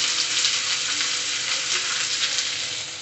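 Onion frying in hot oil with cardamom, cloves and black pepper, a steady close sizzle that holds at an even level without talk.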